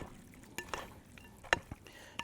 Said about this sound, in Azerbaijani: Biz bunu gəl qarışdıraq.